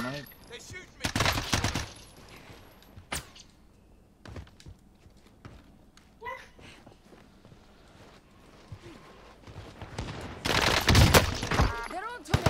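Gunfire in the Call of Duty Warzone Pacific video game, two loud sharp bursts, one early and one near the end, with scattered quieter clicks and faint game sounds between them.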